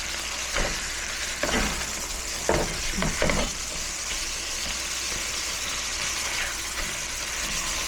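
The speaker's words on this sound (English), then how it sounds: "this is what I usually do, is just cook it, and eventually it will thaw while it's cooked" Frozen ground beef frying in a pan gives a steady, close sizzle throughout, broken by several short scraping stirs and clatters of a utensil.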